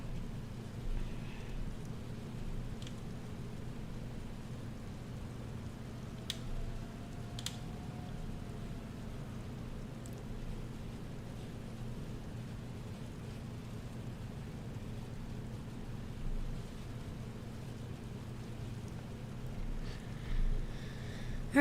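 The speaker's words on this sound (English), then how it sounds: "There's a bit of rain here," Steady rain in a flight simulator during a landing approach to Hawaiian airports, a soft continuous wash of drops over a constant low cockpit engine drone, with faint distant rumbles and no talk.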